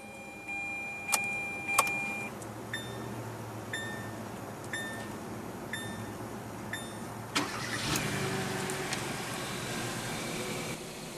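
A 2015 Hyundai Accent's 1.6-liter inline four-cylinder is started up close: keys jingle and the car gives a few short chime beeps, then the starter cranks and the engine catches into a steady, even idle, with no talking.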